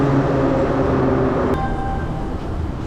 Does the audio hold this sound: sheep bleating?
no